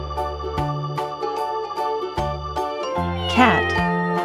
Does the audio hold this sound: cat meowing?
yes